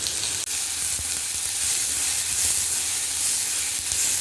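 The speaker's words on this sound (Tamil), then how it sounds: "ஒரு வெங்காயம், இது 2த்தையும் போட்டு நல்லா வதக்கிக்கலாம்." Sliced onion and about ten small-cut garlic cloves sautéing in a pan for an avaram flower kootu, a loud, dense, steady sizzle with occasional light stirring taps, close and continuous, no speech.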